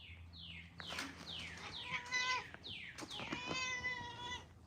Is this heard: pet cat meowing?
yes